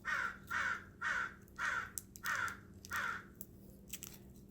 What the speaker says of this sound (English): Of course, there's stupid birds.